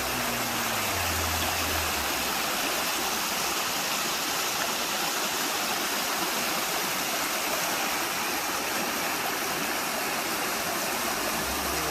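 River water rushes over rocks in a mountain state park, a loud, constant broadband roar of foamy flowing water with no break.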